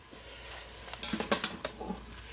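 Chicken sautéing in an Instant Pot for a one-pot meal, with a low sizzle under about eight quick, clattering stirring strokes in a brief burst near the end.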